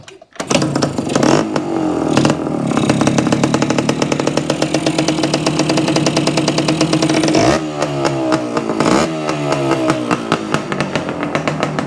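A 1972–73 Yamaha AT2/AT3 two-stroke motorcycle engine runs steadily and loudly close by on its first start, with a brief revving surge near the middle and a rattly, buzzing exhaust throughout, no talking.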